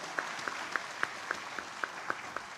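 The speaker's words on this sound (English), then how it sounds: "Let's give him a good standing ovation and applause" Sparse, evenly spaced claps ring out for the chief guest at the AMECEA plenary assembly in Nairobi, a steady rhythmic patter of single sharp hand claps, fairly quiet and not building into a full ovation.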